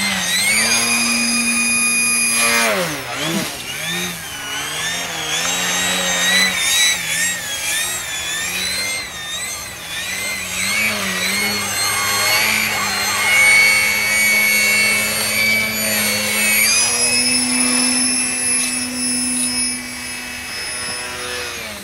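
An E-flite Eratix electric RC airplane at about 90% throttle makes a sustained high-pitched motor and propeller whine. The pitch wavers and dips as the plane maneuvers and makes a fast pass.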